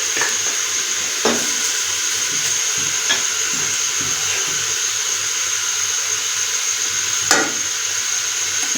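Garlic and ginger paste frying in a beef biryani pot, a steady broad sizzle and hiss throughout with a few sharp stirring clicks and scrapes near the start and again late.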